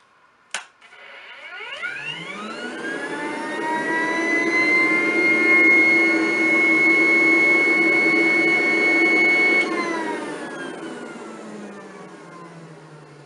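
A Rainbow vacuum cleaner switches on with a click, its motor whining up to a steady high-pitched roar during a suction demonstration, holding for several seconds, then spinning down as it is switched off.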